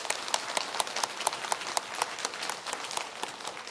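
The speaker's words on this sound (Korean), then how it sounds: "우리 하나님께 한번 감사의 박수 한번 올려드리겠습니다." A church congregation claps in thanks during a Sunday morning service, a soft, fairly distant patter of many hands that stays even for a few seconds, with no talking.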